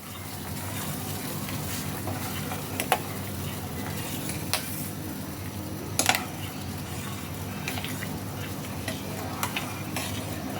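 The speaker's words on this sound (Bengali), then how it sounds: "এবার গ্যাসের ফ্লেমটাকে লো টু মিডিয়ামে করে সাবুটাকে সিদ্ধ করতে হবে" Sago pearls boiling in a pan on a gas flame turned to low-medium, with a steady bubbling hiss and a few faint scraping clicks throughout, no voices.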